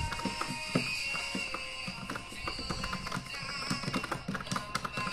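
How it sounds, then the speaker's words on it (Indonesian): Typing on a keyboard connected to a budget mini PC used for office work and browsing, an irregular run of light plastic key clicks and taps, close and fairly crisp, with no talking. "Misalnya kita ngetik"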